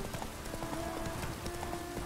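The horse Roach in The Witcher 3 video game, steady quick clip-clop of hooves galloping, moderately faint and continuous.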